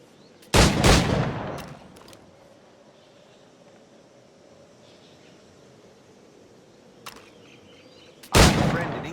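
Two loud firearm blasts in Assassin's Creed 4 Black Flag, one near the start and one at the end, each with a sharp crack and decaying tail, separated by quiet ambient hiss.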